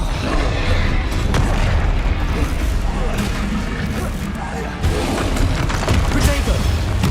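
Booming blasts from the Confringo spell in the Hogwarts Legacy video game on PC, dense and continuous, a steady roar of explosions and rumbling impacts lasting throughout, with a sharper burst near the end.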